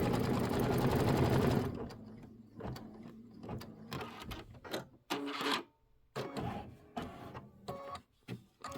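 A sewing machine stitching the flower stem detail on a quilted pumpkin block for a 22-inch pillow, first a loud steady mechanical whir, then stop-start clattering runs mixed with light rustling of fabric.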